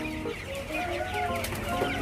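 Broiler chickens in a coop at a poultry farm in Banjarnegara cluck and chirp continuously, many birds overlapping at close range, with no talk.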